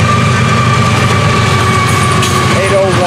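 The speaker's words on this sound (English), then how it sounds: "Dispatch having this crew turn the second motor on at their stop at Bogart just now" A Florida East Coast Railway freight locomotive engine rumbles loudly and steadily after its second motor is started, a continuous diesel drone close by with a voice talking over it.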